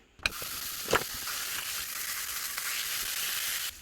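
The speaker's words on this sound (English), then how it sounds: "The first thing that you want to do is start cooking your chorizo." Chorizo sizzling loudly and steadily in a preheated pan, a continuous bright hiss after a couple of sharp clicks as the meat goes in, with no talking.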